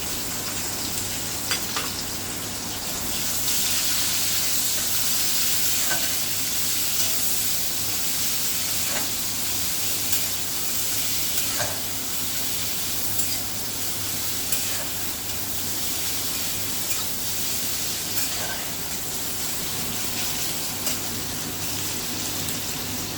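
Chopped onions sizzle in oil with a continuous, even hiss and occasional soft pops, no voices, lasting throughout.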